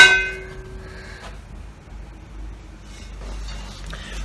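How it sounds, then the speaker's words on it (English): A heavy, good-quality brass-style hand bell, an old clanger, rings out loud and close with one bright clang that hums and decays over about a second, followed by fainter, softer rattles of the clapper. "Really, really nice quality bell that does weigh a ton."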